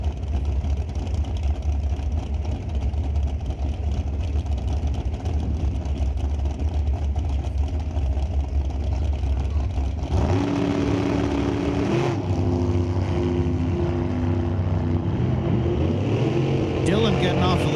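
A 2019 NHRA dragster launches off the line at a drag strip, a sudden loud engine roar cutting over crowd and track noise, then holding at a high, raw pitch. An announcer talks over it throughout.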